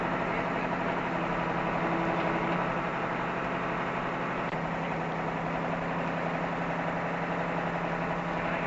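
Mercedes-Benz Unimog U 406 with a liftable loading platform idling, a steady, even mid-to-low engine drone that holds constant throughout with no talk over it.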